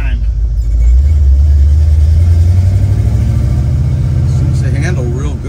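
A 1964 Pontiac GTO engine rumbles low and close while driving, its deep throaty drone rising slightly as it pulls, with someone talking over it near the end.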